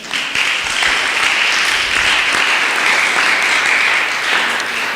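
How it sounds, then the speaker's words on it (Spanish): A church congregation breaks into loud, dense applause that fills the room, holding steady and strong for several seconds without any voices on top. "Démosle un aplauso al Señor."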